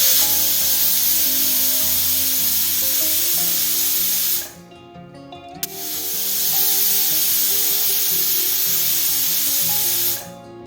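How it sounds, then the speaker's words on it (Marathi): Sharp, loud hiss of a pressure cooker whistling as steam escapes while potatoes and country chicken curry cook, two long blasts separated by a short quiet gap, with a tonal musical bed running underneath. "कुकरच्या 2 शिट्ट्या होऊ देणार आहे"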